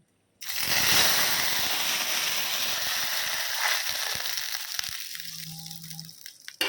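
Water poured into hot oil tempering with dried chillies gives a sudden loud, roaring sizzle and spatter that holds strongly for several seconds before easing, heard up close with no talk.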